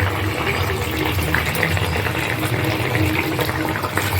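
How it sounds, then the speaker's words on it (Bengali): Fried folui fish dropped into a pot of boiling new-potato curry, a steady bubbling, watery churn that stays loud and close throughout with no one speaking. "এখন আমি এখানে মাছগুলো ভাজা দিয়ে দেব।"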